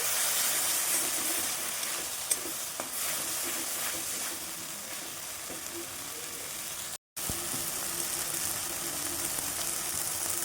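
Spiced loitta (Bombay duck) fish filling with turmeric, chili powder and onion sautéing in a pan, giving a steady, close, continuous sizzle and hiss that holds throughout with no talking.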